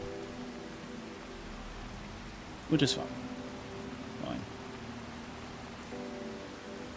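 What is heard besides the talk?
rain in the video game Farming Simulator 25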